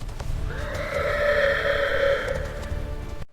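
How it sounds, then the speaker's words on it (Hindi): A horse rears and neighs loudly in one long, wavering whinny of about three seconds, close and alone with no voices. "घोड़ा आगे बढ़ने के बजाय अपनी टांगे उठाकर जोर जोर से हिनहिनाने लगा"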